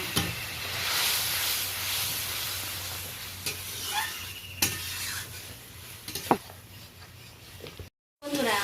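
Spices with red chilli powder and a splash of hot water are stirred and fried in a pan, giving a steady low sizzle with scraping stir strokes and a few sharp clinks, a brief gap near the end.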